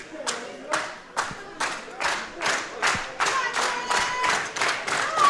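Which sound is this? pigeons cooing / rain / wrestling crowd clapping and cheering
wrestling crowd clapping and cheering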